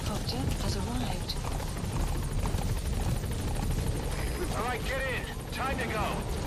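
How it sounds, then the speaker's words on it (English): A support helicopter from the Metal Gear Solid 5 video game arrives, its loud rotor chop and engine roar steady and close throughout, with brief game voice lines over it. "Support helicopter has arrived."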